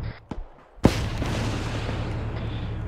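Gunfire from a Viper attack helicopter engaging a mortar position in the military game Arma 3: a sharp, loud boom followed by a sustained roaring rumble that fills the rest of the moment.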